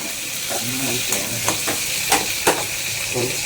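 Food frying in a pan for a morning meal of prawns and red amaranth greens, with a steady close sizzle and hiss broken by soft scraping stirs and a few sharp spatters.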